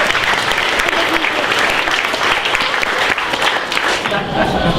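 Loud, sustained applause from an audience for a youth hackathon team presenting their project, dense clapping filling the whole stretch without letting up.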